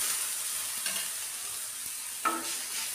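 Chopped onion, tomato and coriander sauté in oil in a pan, a continuous bright sizzle broken by two distinct scraping stirs of the utensil against the pan.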